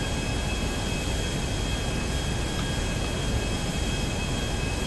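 An airplane in GTA Online flies steadily, a dense, loud, continuous engine roar with a faint high whine running through it, unchanging for the whole stretch.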